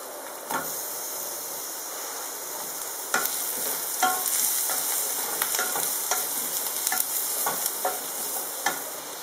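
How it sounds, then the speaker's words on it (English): Mushrooms frying with finely chopped onions in a pan, a continuous close sizzle and hiss broken by repeated stirring scrapes and clicks. "Let the mushrooms cook for a few minutes"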